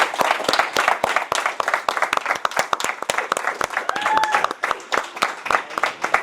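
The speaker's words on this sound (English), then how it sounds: "let's give a round of applause for these young men" A crowd at a business pitch event applauding with steady, dense clapping that carries on throughout, with a brief cheer or whistle partway through.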